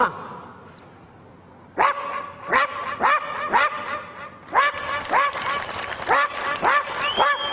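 A performer in a mimicry act imitates a poor household's dog barking: a quiet lull, then a rapid series of loud, repeated woofs, closely spaced and continuing to the end.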